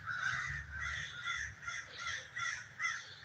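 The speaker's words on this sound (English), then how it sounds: "The crows are telling on me so hard." Several crows caw repeatedly outdoors, harsh calls coming in quick bursts at moderate distance, with no one speaking.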